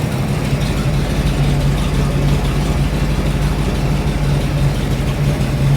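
A rat rod car's engine idles steadily up close, a loud, even low rumble with a constant throb and no speech over it.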